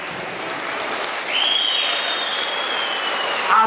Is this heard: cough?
no